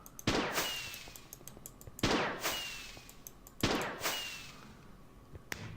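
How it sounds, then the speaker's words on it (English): Three sharp firework bursts from a celebratory lens in the Minecraft modpack Project Ozone, each a loud crack followed by a fading crackle and whistle, evenly spaced about two seconds apart. "So we can create our own little fireworks show wherever we go."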